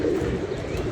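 Pigeons coo softly and steadily in a low, continuous murmur, with an occasional faint chirp above it, close by and with no talk.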